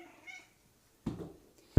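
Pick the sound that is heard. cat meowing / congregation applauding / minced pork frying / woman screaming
cat meowing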